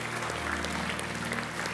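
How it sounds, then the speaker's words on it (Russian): An audience claps in a church, a dense wash of many hands held at an even level for the whole short stretch, with a low hum beneath it and no speech on top. "Эти аплодисменты для вас, дорогие друзья."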